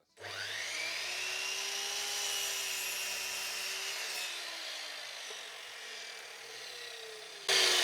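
A power saw cuts through timber for a bird table, a loud, steady whining rasp holding for about seven seconds with a slowly shifting pitch, then a brief louder burst at the end.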